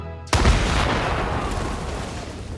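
A sudden loud explosion bursts after a brief quiet moment, a deep booming blast that rolls on and slowly fades with a rumbling tail.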